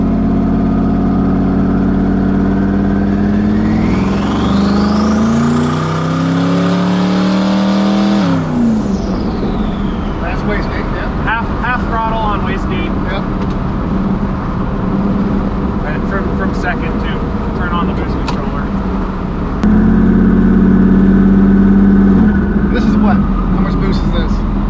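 Twin-turbo 1000+ horsepower Ford Mustang engine at wide open throttle, a loud rising roar that climbs steeply for several seconds, then drops into a rumbling idle with crackles and another surge near the end.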